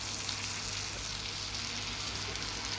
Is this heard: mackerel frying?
yes